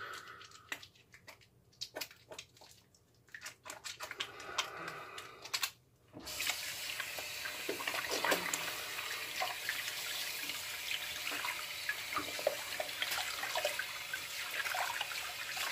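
Tap water runs steadily while oil-based pomade is washed off the hands at a sink, preceded by a few quieter splashes and handling noises before the flow opens up and continues alone.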